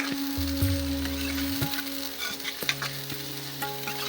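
Onions sizzling steadily in hot oil in a pan while being stirred, a dense continuous frying hiss with occasional scraping and clinks from the utensil, close and loud with no talking.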